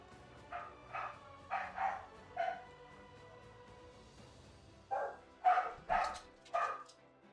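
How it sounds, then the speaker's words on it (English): Dogs bark in the distance in two separate bursts of several sharp, spaced barks, fairly faint over a quiet background. "I love hearing the dogs bark."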